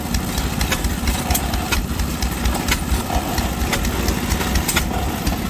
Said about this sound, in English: Here's the Clinton pump jack motor.